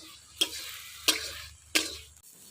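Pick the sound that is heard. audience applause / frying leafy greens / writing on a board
frying leafy greens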